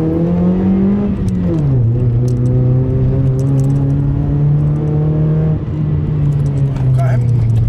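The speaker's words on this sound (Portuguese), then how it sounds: "Faz um burnout aqui, o Nicolas deixa." A BMW E36 holds a steady, loud engine drone with a brief rev dip early on, sustained like a burnout in progress, with faint clinks above.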